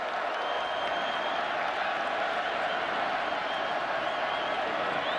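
Steady roar of a large stadium crowd at an Ohio State college football game against California, a dense, continuous wash of voices and murmuring held at an even level throughout.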